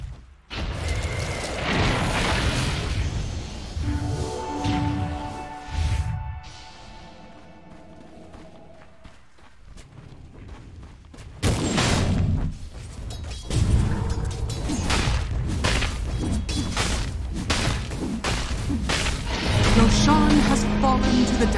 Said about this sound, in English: Radiant's top tower is under attack.